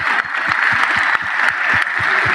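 An audience claps loudly and close by to honor local justices, a continuous wash of hand claps punctuated by rhythmic low thumps, with no voices over it.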